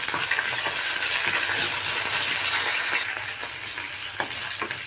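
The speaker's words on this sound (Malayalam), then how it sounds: "പിന്നെ വറ്റൽമുളക് ഇട്ട് കൊടുക്കുന്നുണ്ട്. പിന്നെ കുറച്ച് വേപ്പില കൂടി ഇട്ട് കൊടുക്കുന്നുണ്ട്. ഒന്ന് വഴറ്റിയെടുക്കണം." Dried red chillies and curry leaves sauté in hot oil for an eggplant and curd curry, giving a steady close sizzle with light stirring scrapes throughout.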